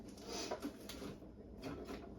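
A small junk drawer is opened at home, giving a faint, muffled wooden sliding and rummaging sound that lasts a couple of seconds, quiet and alone.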